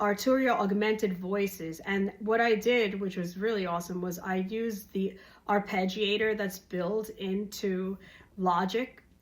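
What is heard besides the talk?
No distinct noise like a dog, phone or traffic.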